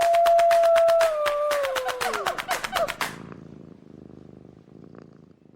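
A domestic cat purrs in a steady, rhythmic rumble, joined at first by a brighter tonal sound, with the purring continuing alone and softer toward the end.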